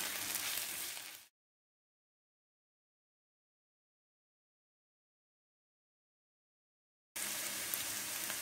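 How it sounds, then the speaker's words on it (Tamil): Garlic and green chili sautéing with onion in a pan for a squid dish, a soft hissing sizzle that cuts out into total silence for about six seconds and then resumes, with no voices. "அதையும் பச்சை மிளகாயும் சேர்த்து இந்த வெங்காயத்தோடு தாளித்து எடுக்கணும்"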